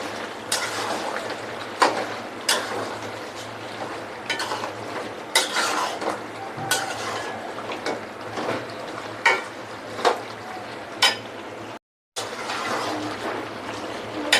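Beef fried with whole garlic and chopped onion in a pan sizzles steadily while a spatula stirs it, making repeated scraping knocks against the metal, close and fairly loud.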